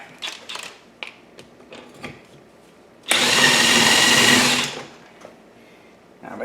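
An impact wrench whirs and hammers for about a second and a half, tightening a nut on an Audi A4 front suspension, loud and close, with clicks and handling noises of tools before and after.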